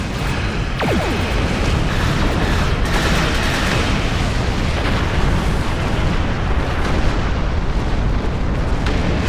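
Continuous heavy booming barrage of space station defensive cannons and explosions in Star Trek Online, dense and loud throughout, with rumbling blasts and a few sweeping whooshes early on.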